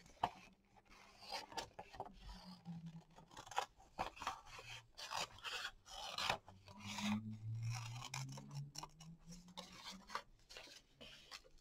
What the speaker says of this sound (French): on peut même découper en arrondissant